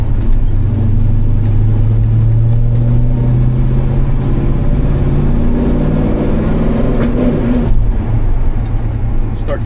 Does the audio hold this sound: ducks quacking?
no